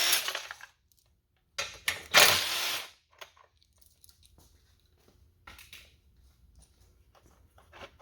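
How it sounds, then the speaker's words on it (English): Bolts are ratcheted out of a Ford Bronco bumper to free the fog lamp, with short bursts of close, sharp ratchet clicking and metallic clinks separated by quiet pauses. "now let's take the bolts out. Take the fog lamp out."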